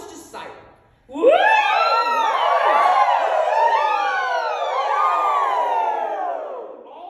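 A group of singers in a vocal studio imitates a siren together, a brief murmur and pause giving way to loud overlapping rising and falling wails that sweep up and down for several seconds before fading.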